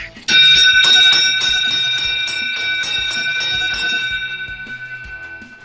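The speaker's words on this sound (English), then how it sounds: "So Mike, get that bell ready, and let's start ringing it for 1 lap to go" A hand-rung lap bell clangs for the final lap of the Gateway Cup Giro della Montagna bike race, a rapid, loud, steady metallic ringing with bright sustained overtones that starts abruptly and keeps going, gradually fading toward the end.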